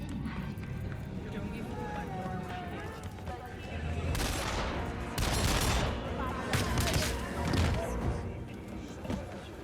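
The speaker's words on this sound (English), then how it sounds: "Definitely gunshots." Bursts of gunfire from Cyberpunk 2077 crackle over a busy game soundscape with music and ambient noise, loud clusters arriving in the middle and latter part, mixed with other effects and faint background voices.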